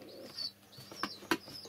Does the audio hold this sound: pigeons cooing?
yes